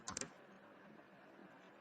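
Several quick keyboard clicks land in a short burst near the start while commands are typed on a computer keyboard, followed by a quiet room hum with only faint scattered taps.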